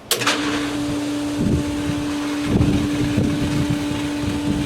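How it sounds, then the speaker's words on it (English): A pool filter pump switched on for filtration after backwashing, whirring up into a steady, loud hum with a constant tone, joined by a few knocks and thuds. "So we'll turn the pump on again."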